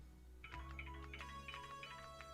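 A phone ringtone plays faintly, a repeating melodic electronic tune of bright beeping notes over a steady low hum, with no talking.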